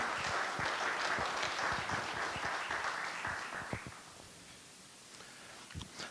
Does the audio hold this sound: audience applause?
yes